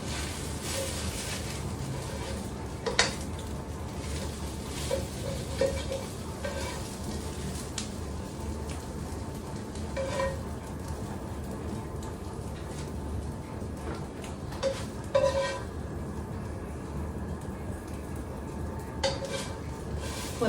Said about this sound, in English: then we'll wait for the bacon to finish cooking